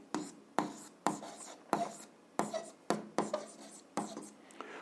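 Pen strokes on paper come in quick, sharp scratches, about ten distinct bursts in an uneven rhythm, close and fairly quiet with no voice over them.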